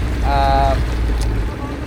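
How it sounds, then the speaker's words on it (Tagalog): A speedboat motor drones low and loud across Lumot Lake during a bass fishing tournament, with wind rushing against the microphone and a voice breaking in briefly over the engine. "Kami naka-speedboat."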